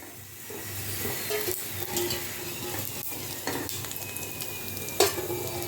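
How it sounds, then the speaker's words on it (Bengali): Packet fuchka papad puris frying in hot oil, a steady close sizzle with occasional scrapes and taps of a utensil stirring in the pan, no talking. "এভাবেই আমি সব পাঁপড়গুলোকে এখন আস্তে আস্তে ভেজে নেব।"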